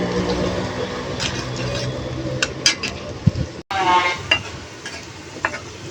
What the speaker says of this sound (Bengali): পেঁয়াজটাকে কিছুক্ষণ নেড়ে ছেড়ে বেজে নিব